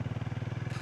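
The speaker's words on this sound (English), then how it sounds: "Bike just chugged." A Harley X440 motorcycle engine chugs on a rocky road, giving a close, steady run of quick, low, rhythmic thumps with no talking.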